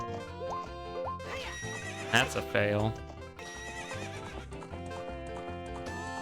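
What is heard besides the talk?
horse Epona neighing and galloping, video game Zelda Ocarina of Time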